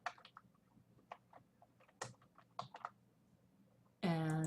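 Fingers typing a password on a home computer keyboard, a sparse, uneven run of quiet, close key clicks with short pauses, then a sudden loud tonal burst at the end.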